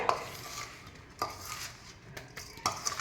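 A spoon stirs a green chilli pickle mixture in a bowl, with a few soft clinks and scrapes against the dish over a quiet, mushy background. It is brief, close and fairly faint.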